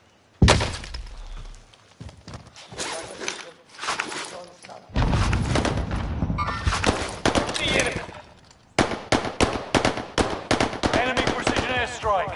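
Heavy video game gunfire rattles in dense automatic bursts with sharp impacts, loud and close, broken by brief pauses before resuming, while a voice talks over the battle.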